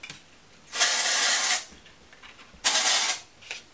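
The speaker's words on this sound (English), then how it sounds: "I'll just spray a little bit of dry shampoo on it" A mini can of Colab dry shampoo sprays in two close, loud hissing bursts of about a second each, separated by a short pause, with no talking.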